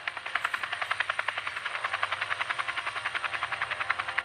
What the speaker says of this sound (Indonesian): US Navy mengerahkan helikopter Seahawk untuk terbang rendah di atas Skoci